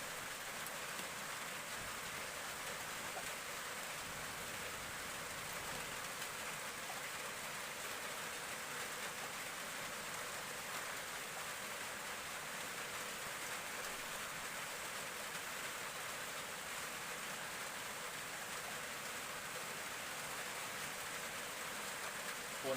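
Steady rain falls continuously, a dense even hiss of drops with no pauses throughout.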